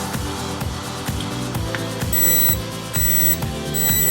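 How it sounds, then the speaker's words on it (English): APO DK-2871 access-control keypad beeping after power-up: three short, bright electronic beeps in quick succession over steady background music. "The keypad will have beep sound."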